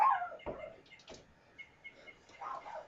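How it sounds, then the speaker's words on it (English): A dog barks a few times at neighbors outdoors, giving short sharp yips at a moderate distance amid faint background noise and possible low voices. "He's just barking at a couple neighbors."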